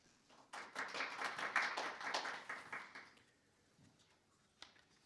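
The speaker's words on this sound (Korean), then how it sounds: "따뜻한 박수로 맞이해 주십시오." A burst of audience clapping at a medical forum swells for about two and a half seconds, then fades to quiet room tone with a single faint tap afterward.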